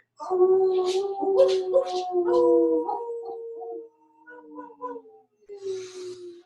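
Several people in a yoga class imitate dogs together, with overlapping drawn-out howls and yips for about four seconds, then a few fainter scattered howls, all close and fairly loud.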